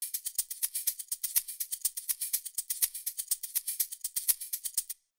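A tight, quantized Afro house percussion loop of crisp, bright clicky hits repeating steadily on the grid in 4/4 for about five seconds, no voices.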